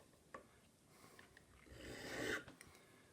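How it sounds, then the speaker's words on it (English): A hand file bevels the end of a tapered steel clock pin held in a spinning pin vise, a quiet close rasping that builds into a brief louder scraping stroke, with soft ticks around it. "We'll now bevel the end of the tapered pin at 45 degrees"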